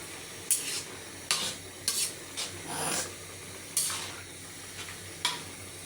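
Malabar spinach and potatoes being stirred in a pan, several distinct scraping strokes of a spatula against metal at irregular intervals over a soft background sizzle, close and fairly loud.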